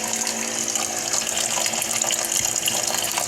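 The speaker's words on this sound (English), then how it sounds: "Now we dispense the water." Water runs from a portable potable-water heater unit in a steady close gush, a continuous splashing flow with no voices over it.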